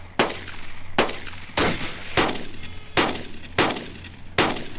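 Heavy artillery cannons fire in a desert tank battle in the World War II game Afrika Korps vs Desert Rats: six loud, close booms about a second apart, each with a short rumbling tail over a low engine hum.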